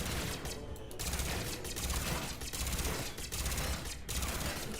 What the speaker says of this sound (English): Where's my machine gun? There it is.